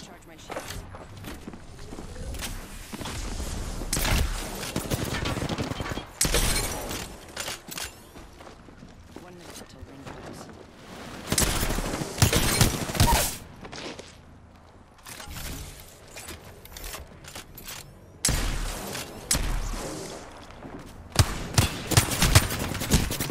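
Gunfire in a shooter video game: repeated bursts of automatic fire and single shots in irregular clusters, loud and close, mixed with footsteps and movement sounds.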